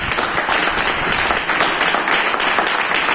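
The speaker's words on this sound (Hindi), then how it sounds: "जोरदार तालियां बजाइए इसे" A large audience at a business seminar breaks into loud, sustained applause, dense clapping filling the room without a pause.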